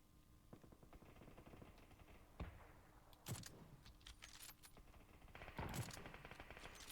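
PUBG game gunfire cracks out in a few sharp, loud bursts spaced several seconds apart over a low, steady background.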